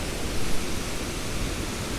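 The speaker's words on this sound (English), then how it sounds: "The noise you can hear is this hugely powerful waterfall" A hugely powerful waterfall on the River Wye at Cressbrook, Derbyshire, roars as a dense, steady, broadband rush of water, loud and close with no other sounds.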